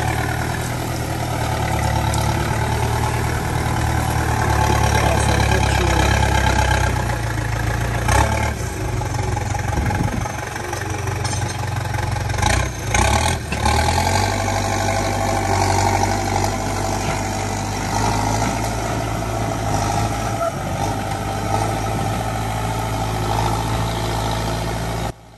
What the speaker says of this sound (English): the tractor there here, I'm making road